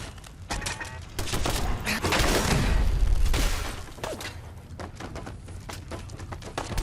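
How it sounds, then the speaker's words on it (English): Gunfire hits the player during Fallout 4 gameplay. Close, sharp shots crack out in scattered bursts, with a denser volley in the middle of the clip. "I'm being shot in the bum"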